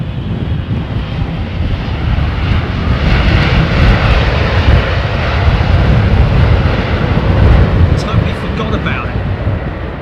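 An Air India airliner at London Heathrow gives off a loud, rumbling jet roar that swells and fades slightly over several seconds, with people talking over it.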